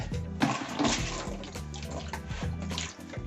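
Water being washed and sloshed away after a small flood at a well pump's plumbing, a continuous close splashing and gurgling with uneven surges, no talk.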